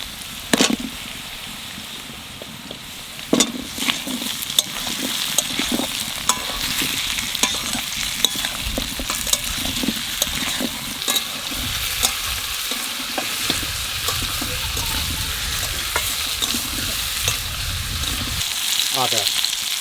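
Potatoes added to onions already frying in oil in a pan, village-style chicken cooking, give a steady loud sizzle with frequent sharp crackles and stirring scrapes close up throughout.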